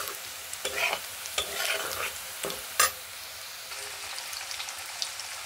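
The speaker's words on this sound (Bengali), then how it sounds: "তেল গরম হয়ে যেতে তেলে গোটা গরম মশলা দিয়ে আর আলুগুলো তুলে দিলাম।" Potatoes and whole garam masala spices frying in hot oil in a kadai, a steady sizzle with several sharp crackles and spatters, moderately close and without voices.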